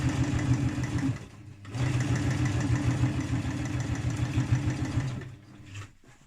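A sewing machine stitches the waistband of a stretch woven skirt, its motor a steady, close hum that briefly dips in a short pause and then winds down near the end, with no voices.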